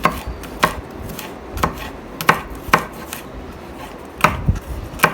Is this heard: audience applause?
no